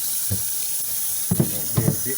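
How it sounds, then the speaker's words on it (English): Water runs in short bursts to rinse out the dirty-water tank of a Rug Doctor carpet cleaner, splashing and gurgling faintly over a hissy background. "run some water in there and clean it out."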